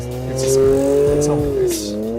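A Honda NSX's naturally aspirated engine screams at high revs, loud and close, its pitch climbing and then easing off in a short sustained wail.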